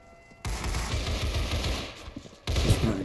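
Sustained rifle fire from an AK in a video game, loud and continuous. The shots start abruptly, stop briefly, then resume.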